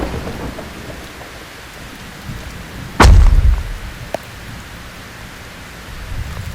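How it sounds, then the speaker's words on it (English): A huge lightning bolt strikes a tree nearby during a storm at a campsite, a sudden loud crack and booming rumble bursting out of steady rain noise, then fading back to the hiss of rainfall. "a huge lightning strike smashes into a tree nearby"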